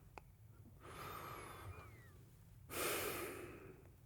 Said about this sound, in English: Let's just take a moment to focus on our breathing.